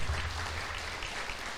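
A church congregation applauds during a Portuguese-language sermon, a soft, even wash of clapping heard from a distance, steady and unbroken throughout.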